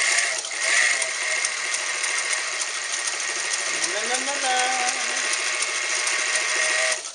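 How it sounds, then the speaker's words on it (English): A vintage Japanese-built Montgomery Wards sewing machine stitches through two layers of denim on a long stitch. Its whirring motor runs loud and steady throughout, with a brief wavering voice-like tone rising midway. "Let's look at the denim. Okay, 2 layers of denim. There we go. Now this is a long stitch for heavy fabrics"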